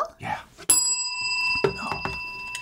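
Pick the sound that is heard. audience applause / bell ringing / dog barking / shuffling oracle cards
bell ringing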